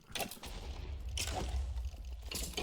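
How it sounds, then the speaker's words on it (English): Distant explosions in Minecraft, heard as three muffled booming bursts about a second apart over a steady low game rumble. "there you can hear some explosions in the background"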